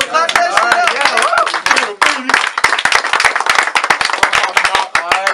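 A crowd claps at a rap battle, with dense, rapid, uneven hand claps running throughout while someone talks loudly over them.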